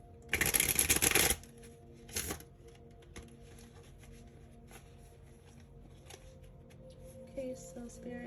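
A deck of tarot cards being shuffled close up, one loud riffling burst of about a second followed by a shorter second shuffle, then quiet handling noises.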